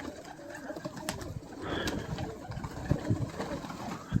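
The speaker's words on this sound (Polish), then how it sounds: "Żarcie drożeje, a Huber dokupuje gołębie." Soft, repeated coos from a flock of pigeons rise over a low, steady background rumble, with faint rustling and a few brief clicks nearby.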